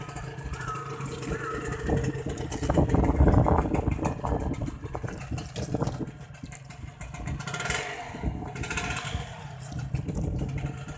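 A red 2000 Honda LS125 motorcycle engine runs with a rough, clattering putter that swells and eases, while a voice talks nearby.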